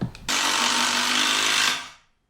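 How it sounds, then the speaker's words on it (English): An Erbauer impact driver drives a screw into oak in one loud, close burst of buzzing, rattling impacts lasting about a second and a half before winding down to silence. "It's not uncommon for this to happen with impact drivers, particularly where, like here, you're screwing into oak."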